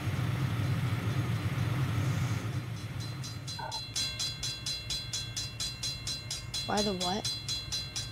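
A rumbling Roblox video game train passes on a CSX railcam, its wheels clacking in a steady repeating rhythm, while a person speaks briefly over the noise.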